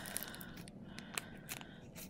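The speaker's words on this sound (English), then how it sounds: "Okay, got my scissors." Scissors snip through a taped plastic bag, producing a few quiet, sharp cutting clicks and crinkly scrapes spaced irregularly, close up with no talking.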